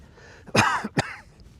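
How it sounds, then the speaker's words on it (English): Two sharp coughs in quick succession, close by, the first stronger and longer than the second, with quiet background around them, outdoors on a wet hillside on the Isle of Wight. "Excuse my coughing."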